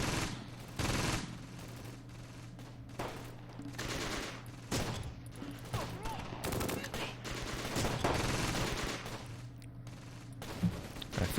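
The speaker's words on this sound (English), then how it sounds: "I think I see some firing coming from those this area right here" Gunfire rattles in the Close Combat Gateway to Caen war game, with scattered bursts and single shots at mid distance against a steady low rumble, with no talking.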